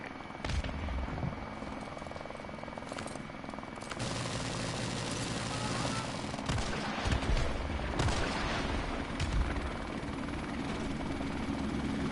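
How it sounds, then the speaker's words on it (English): A friendly helicopter in Call of Duty MWR, its rotor a loud, steady roar throughout, mixed with bursts of gunfire and explosions from the surrounding battle. "Friendly helicopter on the way!"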